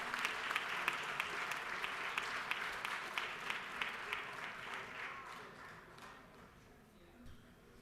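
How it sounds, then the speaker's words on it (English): Applause fills a state House of Representatives chamber during a legislative session, many hands clapping steadily in a dense, roomy wash that fades toward the end, with no talk over it. "give him a round of applause"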